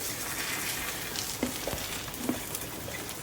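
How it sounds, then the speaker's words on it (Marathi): Eggs frying in a pan, a continuous close sizzle and crackle with a few sharper pops scattered through it. "आणि अंडी पण अशी फ्राय करते ना, त्याच्या पद्धतीने"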